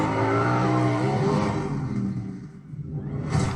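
A Scrambler 1200 XE motorcycle used for film stunts rumbles with a steady, throaty engine drone that gradually fades and thins, then a brief whooshing surge rises at the end.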